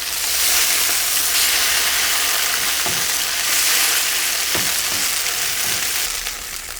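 Tofu patty sizzling steadily in a hot pan, loud and close, with a couple of brief spatula scrapes and taps as it is flipped.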